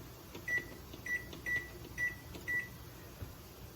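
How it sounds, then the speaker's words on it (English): Five short, evenly spaced electronic beeps from a kitchen timer beside a steam canner set up for pear and garlic preserves, moderately loud over a low steady room hum. "Set the timer to 10."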